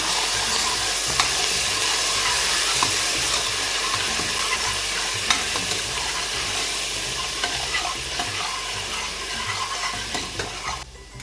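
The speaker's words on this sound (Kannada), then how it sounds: "ಒಂದು ಹತ್ತಷ್ಟು ಕರಿಬೇವು ಸೊಪ್ಪು ಹಾಕ್ತಾ ಇದ್ದೀನಿ ಇಷ್ಟು ಚೆನ್ನಾಗಿ ಫ್ರೈ ಆದಮೇಲೆ ಒಂಚೂರು ರುಬ್ಬಿರೋ ಅಂಥ ಖಾರನ ಸೇರಿಸ್ತಾ ಇದ್ದೀನಿ" Curry leaves and ground chili paste fry in hot oil in a pan, with a steady loud sizzle and repeated scraping stirs running throughout, no voices.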